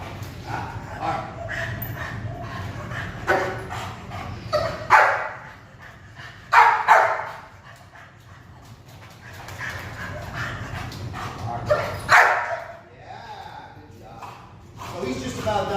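A dog with a strong ball drive gives several sharp barks and yips during a play session with a ball, loud and close, with someone talking over and between them.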